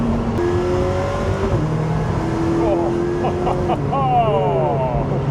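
An Ariel Atom sports car engine roars at high speed on a race track with rising and falling gear-change whines, heard from inside under steady road and wind noise.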